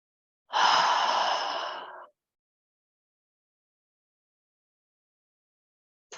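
One long, deep exhale through the mouth during a yin yoga knees-to-chest pose, a soft breathy rush lasting about a second and a half and then silence, with the start of another breath at the very end.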